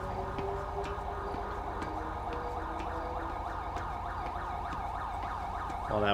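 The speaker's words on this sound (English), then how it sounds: "that one cruiser just keeps driving by with his damn siren on, but no lights" Police cruiser siren in the LSPDFR game, wailing continuously in a steady rising-and-falling cycle with evenly repeated sweeps throughout, fairly loud and alone with no talk.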